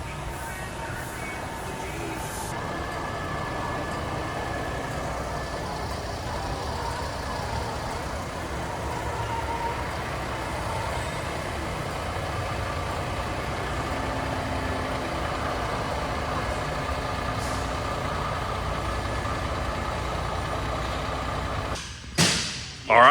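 A Peterbilt truck idles and maneuvers at low speed into a paint shop bay, its engine a steady rumble throughout, with a brief burst of air brake release near the end.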